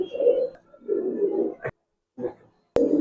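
Giribaz pigeons coo in low, throaty bursts, a few separate phrases close by with short gaps between them, and a sharp click or tap cutting in near the end.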